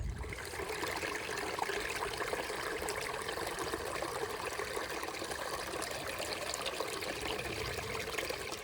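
Creek water running into a 700 ml bottle being topped off on a cold, windy stretch of the Pacific Crest Trail, a steady close trickle and burble over outdoor noise, with no talking.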